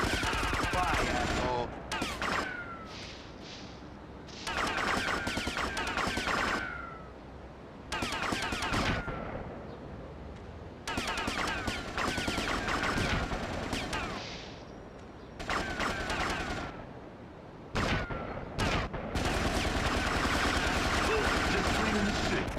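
Automatic AK rifle fire in GTA Vice City Stories, bursts of loud shots repeating in clusters with short gaps across a combat scene.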